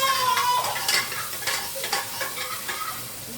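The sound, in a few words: onion frying with cumin in a pan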